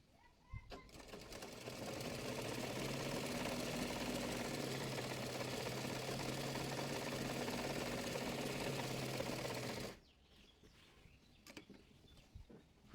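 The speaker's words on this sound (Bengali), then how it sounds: "সেলাই করে নেব। হাই থেকে প্লাজোটির মোহরি পর্যন্ত" A sewing machine stitches palazzo pants in a steady, continuous whir lasting about ten seconds, close and fairly loud, then stops abruptly, leaving faint clicks and handling noise.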